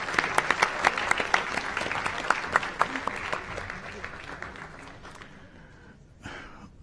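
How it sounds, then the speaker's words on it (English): Conference audience applause after an oral presentation at an international field epidemiology evening, with steady crisp claps that thin out and fade after about five seconds, ending in a brief shuffle of noise. "let's give another hand of applause."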